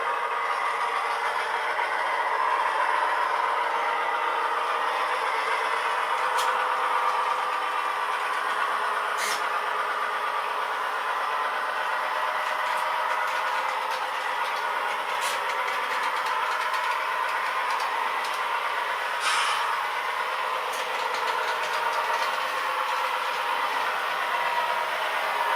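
A fast model railway locomotive races around a speed trap track, giving a continuous close whirring rattle and clatter of small wheels on rail with occasional sharp clicks, steady throughout and without voices.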